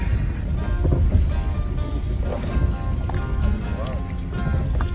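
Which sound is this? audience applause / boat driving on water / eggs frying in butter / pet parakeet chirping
boat driving on water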